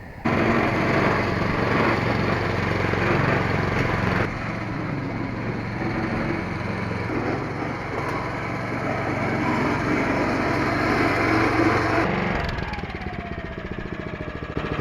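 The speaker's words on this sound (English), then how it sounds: "So that was mowing it at 10 mil" A lawn mower cutting back-yard grass at a 10 mm height runs loud and steady close by, its engine drone continuous before it cuts off near the end.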